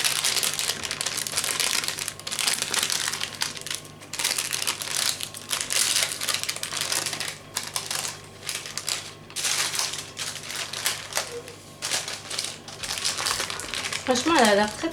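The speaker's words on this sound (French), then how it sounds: "Et je viens retirer délicatement le papier." Crinkling and rustling of parchment paper being peeled slowly off a sponge cake, close and crisp in irregular bursts, with a voice talking over parts of it.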